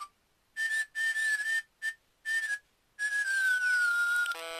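Nintendo DSi Sound whistle voice effect rendering a voice as a clear, pure whistle in several short bursts, then a longer note that slides downward, heard alone.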